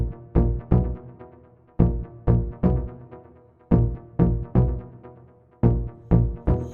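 Layered techno mid bass synths built in the Diva software synth, one patch from the Raccoon preset, pulsing in a repeating rhythmic pattern of punchy, tightly gated hits, loud and up front with no voices.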